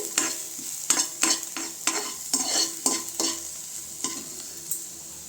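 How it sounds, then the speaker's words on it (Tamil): Onions sizzle gently in a pan for onion rasam while a spoon scrapes and stirs in sharp, irregular strokes, about a dozen clear scrapes. "வெங்காயம் வதங்கிடுச்சு."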